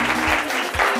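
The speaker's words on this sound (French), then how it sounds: "Tout le monde, on peut applaudir pour M." Studio audience clapping for a DJ on a French-language radio show, a brief dense spatter of hands, with faint low thumps of music or movement underneath.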